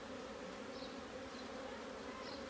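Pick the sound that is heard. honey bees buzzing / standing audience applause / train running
honey bees buzzing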